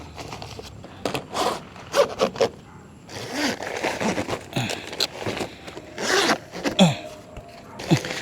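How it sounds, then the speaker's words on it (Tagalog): A zipper is pulled in several rough, scraping runs to join a Peakpod 2 roof top tent body, close and loud, with rustling fabric and handling noises between the pulls. "Hanapin lang muna natin yung zipper na pagdudugtungin."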